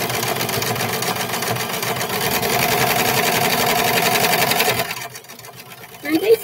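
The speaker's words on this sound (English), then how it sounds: "Which is going to clean that edge with our serging stitch" A serger overlocks a fabric edge for sewn short pants with a steady, close, fast mechanical whir. It stops after about five seconds, leaving a soft rustle.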